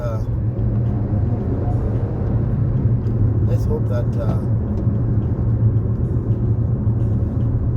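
Car driving on a road while overtaking a truck, a steady loud in-cabin engine and tyre rumble running under a person talking throughout.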